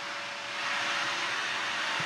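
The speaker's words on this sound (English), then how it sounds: "so there goes the vacuum again." A household vacuum cleaner runs steadily nearby. Its airy, hissing drone swells slightly and holds throughout with no speech.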